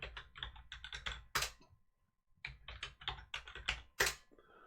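Quick clicking keystrokes on a ThinkPad T430 laptop keyboard come in two close bursts with a short pause between them, each ending with a heavier tap on a larger key, quiet and alone.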